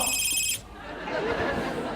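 Telephone ringing with a loud electronic trill of rapid repeated tones that cuts off abruptly after about half a second, followed by indistinct chatter and background noise.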